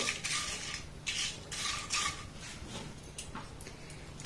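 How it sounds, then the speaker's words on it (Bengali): Green chillies stirred and fried in a pan for aloo chop, heard as bursts of scraping and metallic clatter from a utensil against the pan, fairly close, with no talking. "প্রথমে আমি এই লঙ্কাগুলোকে একটু নাড়াচাড়া করে ভেজে নেব।"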